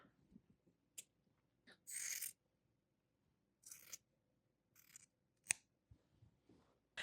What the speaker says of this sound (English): So we are safe to cut off this excess fabric.